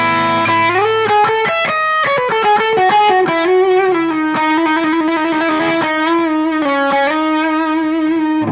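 Electric guitar through a Wampler Tom Quayle Dual Fusion overdrive pedal, playing a fast, continuous melodic line of sustained, slightly distorted notes, loud and close with no voices.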